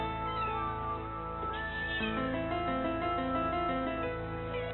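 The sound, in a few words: cat wailing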